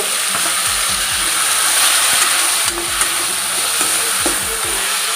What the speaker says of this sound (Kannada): ಈಗ ಟೊಮೊಟೊನ ಹಾಕಿ ಫ್ರೈ ಮಾಡ್ಕೊಳ್ಳಿ